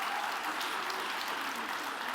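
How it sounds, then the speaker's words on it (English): Steady applause from an audience at a women in tech awards ceremony in Iceland, a dense, even clatter of clapping hands that holds at constant volume without a break. "Another round of applause."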